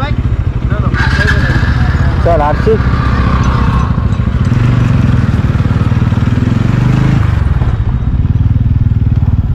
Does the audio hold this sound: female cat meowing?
no